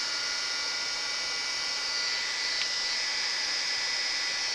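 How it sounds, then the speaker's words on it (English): A heat gun blows hot air for embossing, a loud, steady, close whooshing hiss that holds unbroken throughout with no talk. "And now we're going to take the heat gun."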